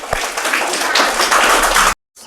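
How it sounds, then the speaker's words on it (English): An audience claps for a participant at a pre-primary school storytelling competition, with dense, loud, close applause that stops abruptly near the end before a brief faint sound. "Claps for her."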